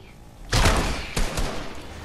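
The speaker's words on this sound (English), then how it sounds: "I'm trying to shoot this fucker" Video game gunfire cracks out as two loud, close bursts with a booming thud and a reverberant tail, and nobody talks.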